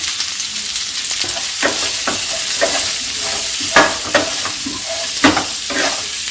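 Baby potatoes and onions with turmeric and salt fry in a hot pan, sizzling steadily and close up, while a spoon scrapes and stirs in repeated strokes that bring occasional sharper clacks.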